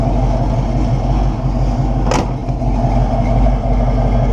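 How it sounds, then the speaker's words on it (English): A 1969 Buick Special Deluxe engine idles and rumbles through its exhaust, loud and close, with a steady low drone and a brief sharp burst midway. "I wonder if it sounds different because the exhaust is higher up off the ground"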